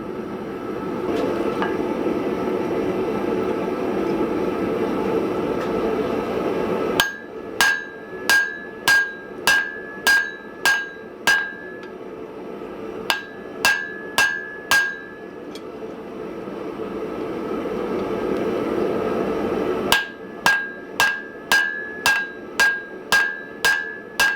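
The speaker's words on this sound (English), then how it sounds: "I'm getting it really hot, and I'm going to do it under the hammer" Hot steel for a froe pounded under a power hammer, delivered in rapid bursts of sharp, ringing metallic blows, roughly a dozen per run, separated by pauses filled with a low background hum.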